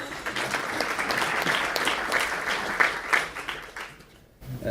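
An audience at a New York venture capital talk applauds a New York startup success: dense, sustained clapping from many hands that swells slightly and then thins near the end.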